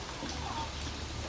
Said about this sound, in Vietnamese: sáng nay trời lại tiếp tục mưa